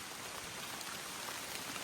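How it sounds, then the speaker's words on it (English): Steady rain patters down throughout on a hike, a dense even hiss of drops with no voices. "but it's raining"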